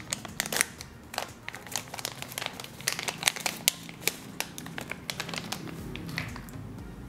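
Skin Aqua Tone Up UV Essence packaging torn open by hand, a close run of sharp crinkling rips and plastic crackles spread over several seconds with no talking.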